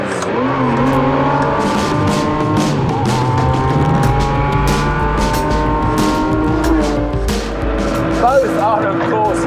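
A Ferrari F50 sports car driving hard on a Scottish Highlands road, its engine note loud and sustained throughout with rising and falling pitch as it accelerates, while someone talks over it.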